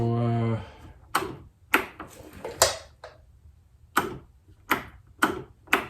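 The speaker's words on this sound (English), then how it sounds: "oh, I hear that pump clicking in." An Arctic Cat EXT 580 snowmobile fuel pump clicks on and off in a series of sharp, evenly spaced ticks at close range, following a short low hum.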